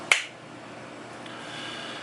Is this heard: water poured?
no